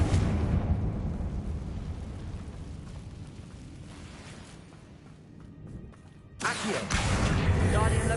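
A Confringo fire-blast spell exploding in a fantasy wizard video game, heard as a broad roaring rumble that fades, then a sudden loud burst near the end, with game voices mixed in.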